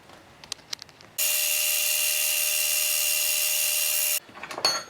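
A brass pen is being polished on a rotary machine, which runs as a loud, steady high whine for about three seconds and then cuts off, with short clicks and handling noises before and after.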